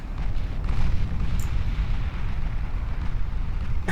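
Main-gun shells explode during a chaotic naval battle in Ultimate Admiral Dreadnoughts, with a dense, continuous rumbling roar of overlapping booms that stays loud throughout and has no clear breaks.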